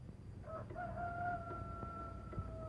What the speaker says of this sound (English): Listen to that rooster crow.